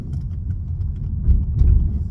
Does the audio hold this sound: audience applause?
no